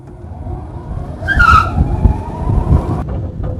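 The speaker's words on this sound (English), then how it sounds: "I'm just going to turn this thing on and give it gas, and we're going to go for a ride." A classic open-top car converted to electric power pulls away with a brief high tire squeal, then a low rolling rumble and road noise that carry on close by.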